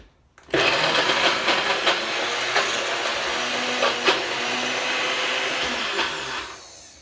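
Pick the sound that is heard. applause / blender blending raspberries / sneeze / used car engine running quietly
blender blending raspberries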